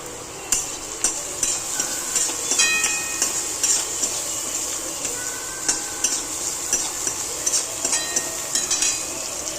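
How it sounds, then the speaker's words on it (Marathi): Chopped onion with crushed garlic and chili sizzles steadily in a pan, a constant bright hiss with frequent sharp crackles and occasional stirring clinks, close and alone. "आता कांदा चांगला फ्राय होत आलेला आहे पहा."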